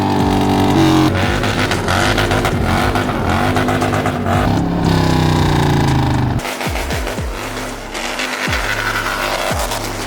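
A 2002 Harley-Davidson Road Glide stunt bagger motorcycle engine revving hard and loud close by, throttle blips rising and falling before dropping back to a lumpy, rapid idle with sharp bursts.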